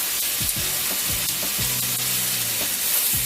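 Chicken fries in a pan with a dense, continuous sizzle close up, with occasional faint scrapes of a spatula and fork in the background.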